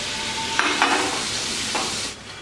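Tomatoes sautéing in onion masala for egg kothu bread sizzle steadily in a hot pan, while a few distinct spoon scrapes stir through them up close.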